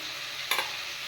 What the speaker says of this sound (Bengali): চলো আলুটা ভাজা হোক